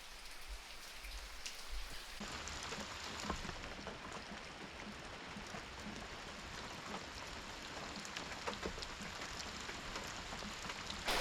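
Steady rain falls over a campsite tent in Talladega National Forest, a dense, continuous hiss of drops on surfaces that swells after the first couple of seconds and holds evenly throughout, with no voices.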